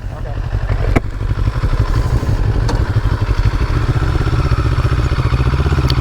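A CFMoto CL-X 700 café-racer motorcycle runs close by with a loud, steady mid-range engine drone and a low rumble, plus a couple of sharp clicks early on.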